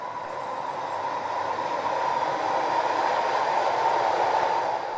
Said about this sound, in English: the SkyTrain, runs behind us here